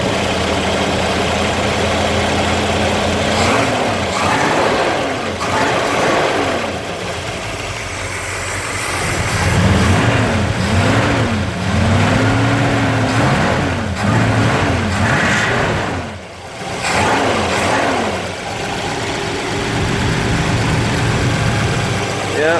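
A Mopar small block V8 with dual four-barrel carburetors idles loudly and roughly, with a few throttle blips and revs in the middle. A person talks briefly over the engine.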